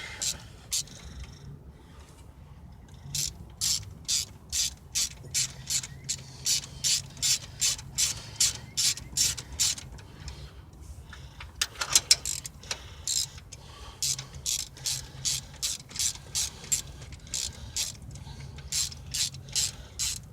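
A ratchet wrench working a spark plug socket on a car engine clicks in fast, steady bursts, close and clear, with a brief louder clatter partway through.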